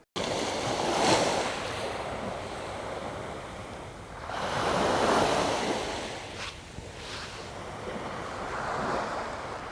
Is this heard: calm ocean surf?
yes